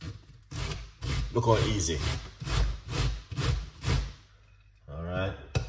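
A whole, very large cauliflower is rubbed against a grater to make cauliflower rice, giving steady rhythmic scraping strokes about once per second. The scraping is close and clear, with a person talking briefly between strokes.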